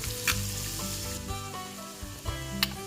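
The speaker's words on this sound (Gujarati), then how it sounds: "હવે તેમાં આપણે આદુ, મરચાં તથા લસણની પેસ્ટ ઉમેરીશું અને એને થોડી વાર સાતળીશું" Ginger, chili and garlic paste sautéing in a hot pan for a kulfi-style kaju gathiya curry base: a steady close sizzle with a few scraping stirs and light clinks, no talk.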